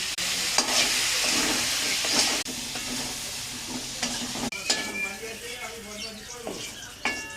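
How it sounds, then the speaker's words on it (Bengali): Potato and pointed gourd pieces fry in a pan, a close sizzle broken by repeated scraping stirs and clinks of a spoon, with faint voices now and then in the background. "আলু পটলটা ভালো করে ভেজে নিয়ে এবং চামচ হলুদ দিলে একটু নুন দিলে এটা আবার ভাজা ভাজা হবে।"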